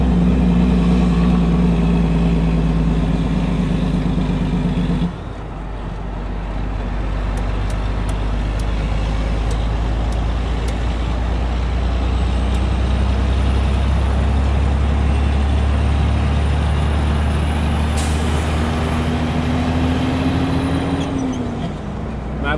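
International 9800 twin-steer truck with a Detroit 12.7 engine and 10-speed gearbox idling loudly up close, a steady low diesel rumble that dips briefly then revs up near the end, with a sharp air-brake hiss late on.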